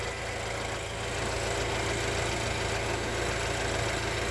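Engine of a 2016 BMW E89 convertible idling with the hood open, a steady, even low hum and hiss with no knocking, constant and close throughout.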